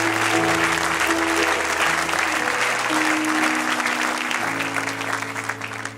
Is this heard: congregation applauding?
yes